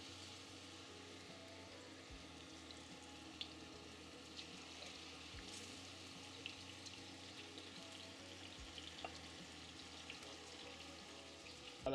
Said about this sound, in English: I'm gonna fry my chicken breast 3 to 5 minutes on each side.